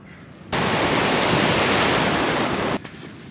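Sea waves wash onto a beach, heard as a loud, broad roaring rush that holds for about two seconds between quieter stretches before and after.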